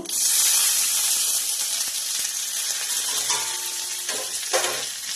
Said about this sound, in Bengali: ফোড়ন দিয়ে এবার পেঁয়াজ কুচনোটা দিয়ে দেব।